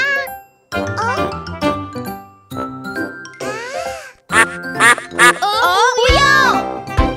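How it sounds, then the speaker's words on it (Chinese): Quacking from cartoon ducks in a children's song about three little ducklings, repeated in short bursts between singing voices and bright jingling music. "我们是三只小鸭子，嘎， 呱， 啊，嘎，"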